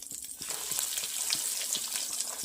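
Fish cutlets spluttering in a shallow pan of hot oil, a steady close crackle and hiss with small pops throughout and no voices.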